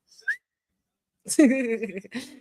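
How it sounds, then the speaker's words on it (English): A person whistles a brief high tone near the start, followed by a pause and then speech from a man. "You point, I whistle."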